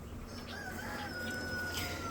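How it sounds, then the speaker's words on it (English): A rooster crows loudly and close by amid roosters fighting, its drawn-out call rising over a background of other fowl clucking. "So I can break up these roosters for sure"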